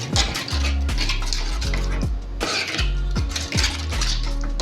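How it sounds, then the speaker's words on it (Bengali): Yogurt whisked with salt and sugar in a bowl, a steady scraping clatter of utensil against the bowl with repeated rhythmic strokes, close and fairly loud, with no talking. "এবার এটা খুব ভালো করে দইটাকে আমি ফেটিয়ে নিচ্ছি।"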